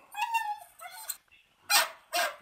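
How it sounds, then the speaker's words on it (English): A dog indoors in a home lets out a few short whimpering yips and then two sharp, loud barks close by, with brief gaps between the sounds and no clear talking. "Let that dog out."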